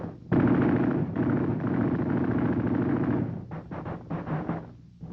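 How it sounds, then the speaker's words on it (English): Artillery fire in 1951 war documentary footage of troops crossing the Ruhr under shelling aimed at floating bridges: a sudden loud blast followed by a sustained dense rumble of gunfire, then choppier bursts fading toward the end. "the troops encountered great difficulties, particularly because of hostile artillery fire upon their floating bridges"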